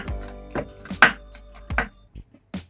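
A kitchen knife chops garlic for homemade pork meatballs, landing several separate cuts with uneven gaps between them, some sharper and louder than others, close by with no talking.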